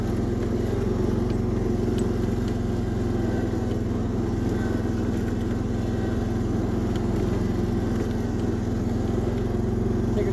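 A rare Massey Ferguson garden tractor engine runs with a steady, close, unbroken mid-pitched drone that holds the same level throughout.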